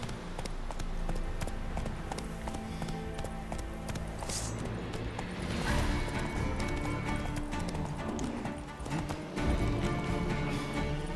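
A horse gallops in The Witcher 3, its hooves beating a fast, steady clip-clop rhythm up close, with rustling movement around it and no speech.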